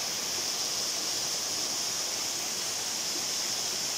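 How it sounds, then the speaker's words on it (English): Kinagahran Falls on Bohol Island pours in a steady, unbroken hiss of rushing water, even and full throughout with no other sounds. "Well, I'm finally here at Kinagahran Falls."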